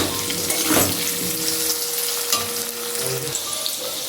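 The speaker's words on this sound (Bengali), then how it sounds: "একটু ভেজে নিচ্ছি নুন দিয়ে" Potatoes and cabbage frying in oil with salt, a dense, close, steady sizzle with occasional stirring scrapes and no voices.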